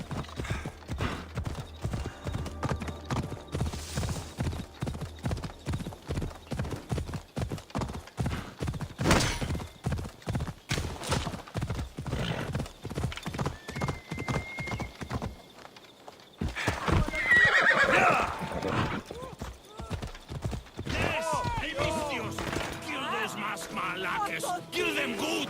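Horse galloping in Assassin's Creed Odyssey, a steady fast clip-clop of hooves with a whinny partway through, game voices and combat sounds mixed in.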